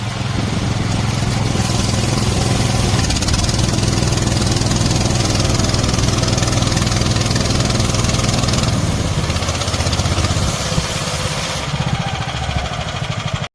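A petrol-engined orchard and vineyard sprayer runs steadily at a loud, close idle with a constant mechanical drone throughout, cutting off abruptly at the very end.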